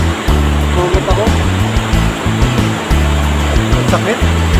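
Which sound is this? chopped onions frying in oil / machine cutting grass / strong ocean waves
strong ocean waves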